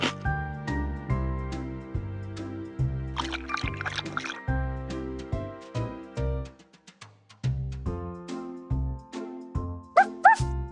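A cartoon dog barks a few short times in a PAW Patrol video game, set over bouncy background music with a steady plucked rhythm.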